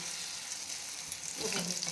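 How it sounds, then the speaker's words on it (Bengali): Red chillies frying in hot oil give a steady, close sizzle that swells a little louder toward the end, with no voices over it. "এরকম লঙ্কা ভাজাও করে দেবে"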